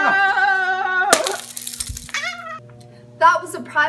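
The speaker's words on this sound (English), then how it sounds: "And now he's using a glass bottle!" A glass bottle smashes during a staged fight, one sharp crash followed by brief scattered tinkling, with voices talking before and after the break.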